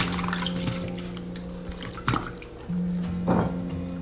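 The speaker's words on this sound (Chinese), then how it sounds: "然后再用清水再清洗几遍。" Shiitake mushrooms are rinsed in clean water in a kitchen, with soft sloshing, dripping and splashes over a steady background hum, near and moderately loud, without talk.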